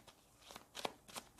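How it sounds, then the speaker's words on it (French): A tarot card is drawn from the deck in a few faint, quick papery slides and flicks, soft and close, with no voices. "Je sens que je vais tirer une autre carte."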